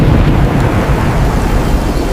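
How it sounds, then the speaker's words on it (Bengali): Dense, steady roar of heavy rain with deep rumbling thunder underneath, loud and continuous throughout with no voices. "তখনই হঠাৎ প্রচণ্ড ঝড় বৃষ্টি শুরু হয়"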